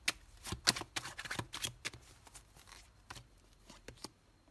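Tarot cards being shuffled by hand, a soft and close run of riffling flutters and light slaps that comes in quick uneven bursts and then tapers off, with no one talking.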